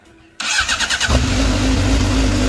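A Honda Hornet motorcycle fitted with a homemade exhaust made from a Coca-Cola can starts up after a brief quiet moment, then settles into a loud, steady, raspy close idle, with no talking.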